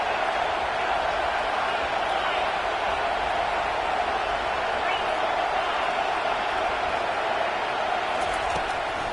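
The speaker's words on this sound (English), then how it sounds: "Decibels rising as the crowd gets behind this defense on 3rd down" A packed football stadium crowd at a UCLA game roars on a third-down defensive stand, a continuous dense wall of cheering that stays loud and steady throughout.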